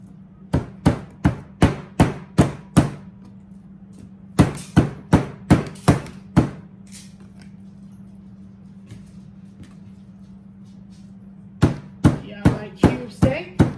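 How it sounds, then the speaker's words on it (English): A small meat mallet pounds cube steak inside a bowl, three bursts of rapid, evenly spaced thuds, loud and close, separated by quiet pauses over a low steady hum. "I am going to take my little mallet and pound on it a little bit"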